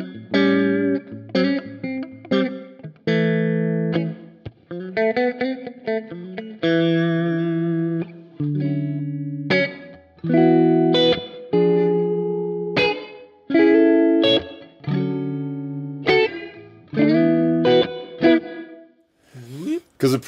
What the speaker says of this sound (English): A small room reverb with fast decay.